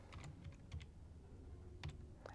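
C++ code being typed on a computer keyboard, a quick run of soft, close key clicks in small irregular bursts, quiet with no talking.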